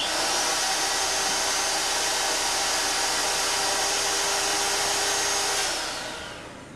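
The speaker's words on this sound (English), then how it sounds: "If, for example, Dan were to take a conventional hand mixer, which uses a highly inefficient AC motor with worm drive, it needs a cooling fan" A conventional hand mixer with an AC motor, worm drive and cooling fan whirs loudly and steadily at close range with a breathy, fan-like hiss, then winds down at the end.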